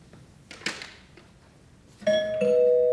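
A doorbell rings in a home kitchen, sounding two clear electronic ding-dong tones, loud and close, after a stretch of quiet room noise and faint shuffling.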